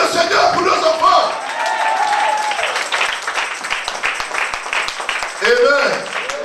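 A church congregation at a Sunday service bursts into applause and cheering, with dense clapping through most of it, scattered whoops and voices rising at the start and again near the end.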